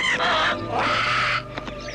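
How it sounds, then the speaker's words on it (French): Cartoon parrots squawk in a loud, harsh burst of overlapping calls that swell and ebb across about two seconds, then break into a few shorter squawks at the end. "Il n'y vit rien d'autre que des perroquets."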